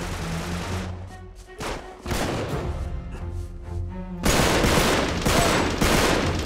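Dense gunfire from a firefight in Uncharted 3: Drake's Deception, bursts of rapid shots that ease off and then swell into a loud sustained barrage near the end, with a voice faintly audible underneath.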